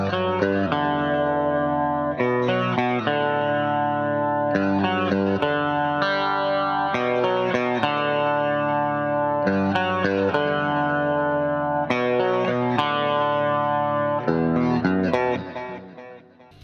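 Electric guitar with chorus and effects plays the clean arpeggiated intro to a song in a slightly wrong fingering, ringing sustained notes in repeating phrases, close and loud before fading out at the end.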